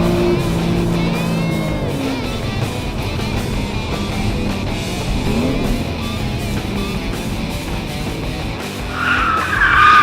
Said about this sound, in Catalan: ens està regalant una derrapada controlada